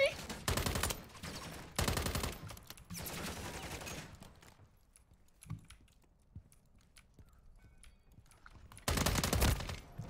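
Automatic gunfire in a Call of Duty MW3 one-on-one match comes in loud rapid bursts: two early volleys a second apart, a quieter stretch with faint clicks and distant shots, then another heavy burst near the end.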